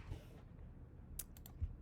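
Keystrokes on a computer keyboard while setting up a Google Doc, a few quiet clicks scattered over a faint background with no talking.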